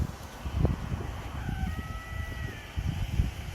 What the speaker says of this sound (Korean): 닭 소리도 나고 아주 농촌이죠 여기